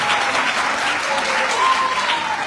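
An audience at a French-language school debate claps steadily, a dense, even burst of applause from a crowd in a hall.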